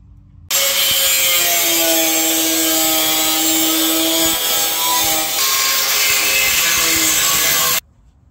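A power saw cuts through a metal e-bike frame part, a loud, continuous grinding whine with ringing tones that starts abruptly, shifts pitch partway through and stops sharply after about seven seconds.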